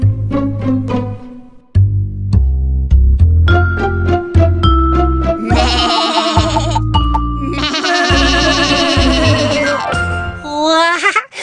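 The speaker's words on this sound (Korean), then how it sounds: "아기 염소에겐 형제들이 있었어." Baby goats bleat loudly and insistently in repeated wavering cries, with several calls overlapping in a close, continuous chorus.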